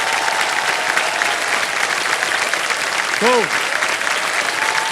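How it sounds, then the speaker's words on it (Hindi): A studio audience on a game show applauds loudly and continuously for about five seconds in a dense, even wash of clapping. A brief voice cuts in near the middle. "फर्स्ट फिंगर फर्स्ट के साथ तालियां बज जाएं एक बार फिर से।"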